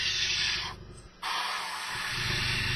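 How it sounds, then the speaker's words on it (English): A steady airbrush hiss sprays paint onto a model during touch-up, pauses briefly for about half a second, then resumes and continues evenly. "you kind of want to be very, picky with the airbrush and where it's spraying"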